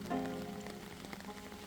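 Soft, patchy rain at Bulguksa Temple in Gyeongju, a quiet pattering with scattered drips over a faint tonal hum in the background.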